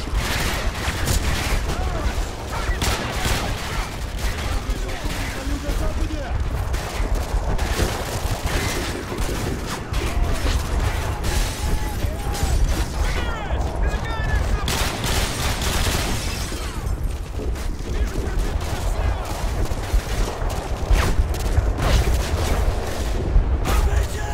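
Remote-controlled Predator missile strike in Modern Warfare 2, a dense, continuous roar of explosions and gunfire filling the whole stretch with steady loudness, chaotic battle noise and shouted voices mixed underneath.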